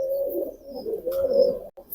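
A pair of deshi giribaj pigeons coo in low, throaty bursts, a steady murmuring call that pauses briefly near the end.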